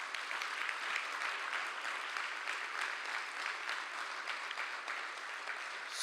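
A room full of people at a college flex day gathering gives a round of applause, steady and sustained clapping at an even level throughout with no voices over it.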